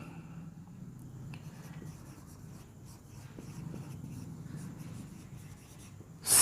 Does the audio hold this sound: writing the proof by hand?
yes